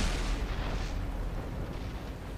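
A tank cannon fires in World of Tanks, a deep booming blast that rolls into a heavy, sustained low rumble for a couple of seconds, loud and close, with no talking.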